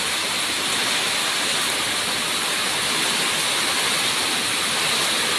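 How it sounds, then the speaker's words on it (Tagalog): Nonstop heavy rain from a typhoon in Laguna pours down as a dense, even roar, loud and unbroken throughout with no voices. "ito naman walang humpay na ulan naman ang sumunod"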